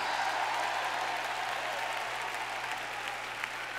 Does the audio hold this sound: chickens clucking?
no